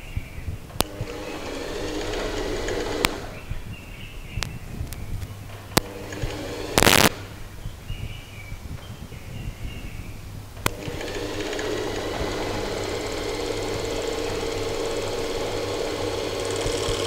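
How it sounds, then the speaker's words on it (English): An overlock sewing machine runs in steady bursts while stitching the seam of a pair of shorts, with sharp clicks and a brief loud rattle between runs, close and fairly loud. "Pick the other side and overlock"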